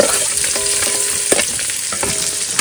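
Onion hits hot oil and fries with a continuous loud sizzle, crackling steadily up close, with a few sharp stirring scrapes and no talking.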